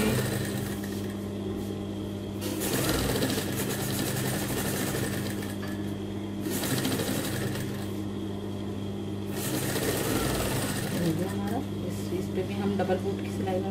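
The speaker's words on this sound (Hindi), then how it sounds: "उसके बाद हम यहाँ से सीना शुरू करेंगे" A sewing machine stitches fabric for children's dungarees in bursts of steady, even whirring that stop and restart, while someone talks over it throughout.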